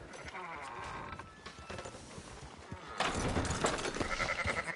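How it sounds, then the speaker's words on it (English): Sheep bleating in Red Dead Redemption 2, several wavering calls from nearby animals, the loudest cluster toward the end, over a busy outdoor game ambience. "Buying sheep?"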